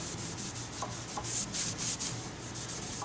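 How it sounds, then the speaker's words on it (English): A rag rubs wood stain onto the undersides of wooden shelves, a steady close scrubbing swish with soft rhythmic strokes that continue without pause and without talk. "then we'll start staining the undersides of the shelves"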